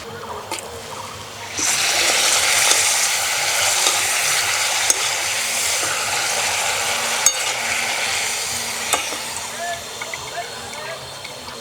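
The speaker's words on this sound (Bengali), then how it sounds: "এবার পাঁপড়গুলো দিয়ে দেব।" Broken papad pieces drop into warm oil and burst into a loud, crackling sizzle that holds steady, with sharp clicks and taps of utensils against the pan scattered through it.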